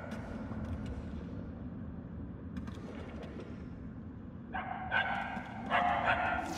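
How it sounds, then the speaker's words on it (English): A dog barks in the video game Marvel's Guardians of the Galaxy, several yips and barks in quick bursts near the end over low rumbling game ambience. "The barks are getting louder at least."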